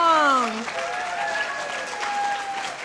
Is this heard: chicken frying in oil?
no